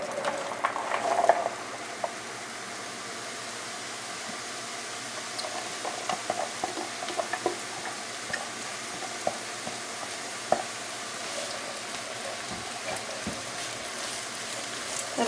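Chopped vegetables and onions sizzle steadily in a pan while cooking stuffing, a continuous frying hiss with occasional crackles and a few stirring clatters, no talking.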